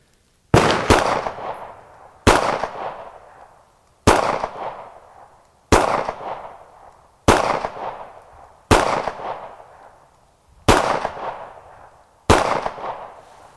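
A Hi-Point C9 pistol fires eight sharp, loud shots at a steady pace a second or two apart, each crack ringing out in a decaying echo with no voices in between.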